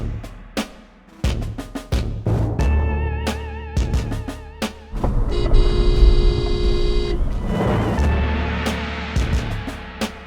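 Car horns honk repeatedly in traffic around a delivery truck, with short sharp toots followed by one sustained blast and more quick honks over road noise.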